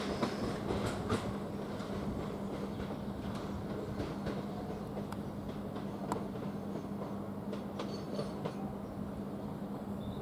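Class 375 electric train standing at Ramsgate station, with a steady low rumble and hum throughout, broken by faint clicks and clanks from the carriages.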